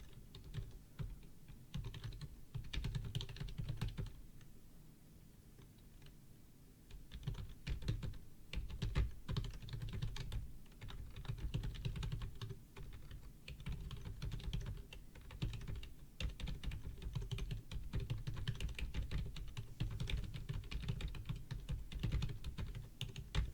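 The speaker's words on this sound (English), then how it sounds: "It just looks like a guy sitting at a desk typing at a keyboard." Quiet clatter of a computer keyboard being typed on at a desk, irregular bursts of keystrokes with short pauses, close and fairly soft.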